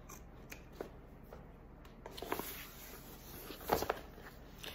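Scissors trimming fabric during a sewing project, a few soft snips and rustles that grow louder toward the end, heard faintly and up close with no talking.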